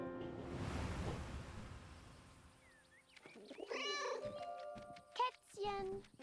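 A cat meowing in the World War I video game 11-11 Memories Retold, with a few short, wavering meows in the second half following a noisy, washing ambience.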